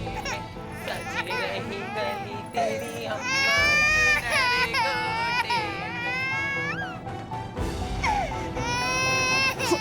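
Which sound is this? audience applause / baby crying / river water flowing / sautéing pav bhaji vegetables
baby crying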